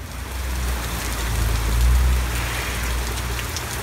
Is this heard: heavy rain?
yes